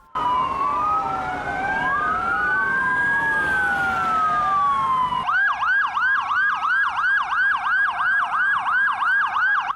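Police motorcycle sirens wail loudly during a city tour in İskenderun, Turkey, first in slow overlapping rising and falling sweeps, then switch to a rapid repeating yelp pattern, with no talking.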